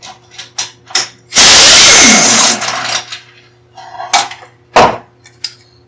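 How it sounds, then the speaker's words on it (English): Impact wrench working the harmonic balancer bolt on a Small Block Ford V8 during timing chain service, one loud sustained burst of about a second amid scattered nearby workshop clanks and taps. "Yet another reason for pulling the radiator out of the way is so you have room to get an impact"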